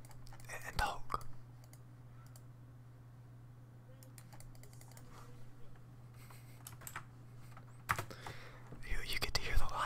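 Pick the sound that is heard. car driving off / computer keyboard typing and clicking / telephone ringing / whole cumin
computer keyboard typing and clicking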